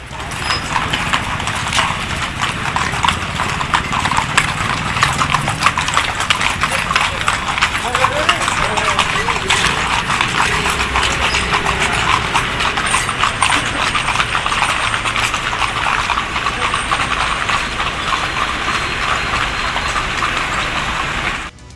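Police horses on night patrol in Mysuru clip-clop in a steady rhythm of hooves under continuous news narration, with some low engine noise in the background.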